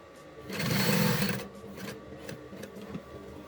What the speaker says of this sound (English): First I'll be stitching the handle of the bag first.